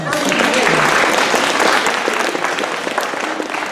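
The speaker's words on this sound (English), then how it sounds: "So let's give him a round of applause." An audience at a school winter concert bursts into dense applause, a steady wash of many hands clapping close and loud that holds for several seconds with a slight easing toward the end, while a few voices murmur underneath.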